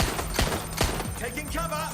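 Gunfire in the video game Watch Dogs Legion, set in London: a few sharp, loud shots in quick succession, followed by ringing tonal game effects.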